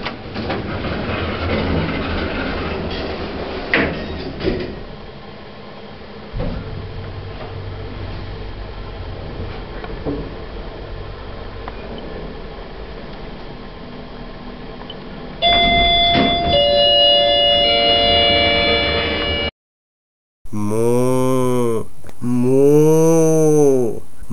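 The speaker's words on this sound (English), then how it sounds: "These are some generic hydraulic lifts, and only the lift on the left stops at the ground floor. Let's ride these lifts." A generic hydraulic lift in a hospital carries riders with a low rumbling hum and a few clunks. Door chimes and a bright rising tone follow, then a brief silence and a repeated electronic announcement tone.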